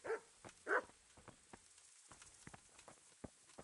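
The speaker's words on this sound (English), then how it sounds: "Dogs are barking at something." Dogs barking in a medieval village setting in the video game Kingdom Come: Deliverance, a few faint, scattered barks at a distance, one louder burst near the start, over low ambient background.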